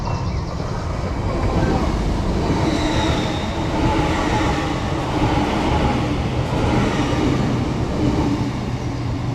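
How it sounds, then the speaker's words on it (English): Transpennine Express train 802-204, running from Newcastle to Liverpool Lime Street, passes through a station with a loud sustained rumble and rolling wheel noise, heard close and steady without speech. "passing through there was 802-204 on a Transpennine Express service from Newcastle to Liverpool Lime Street"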